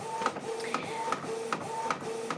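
A Canon Pixma MG inkjet printer printing, with regular repeating clicks and whirring carriage passes about every 0.4 seconds, quiet and close, with no talk.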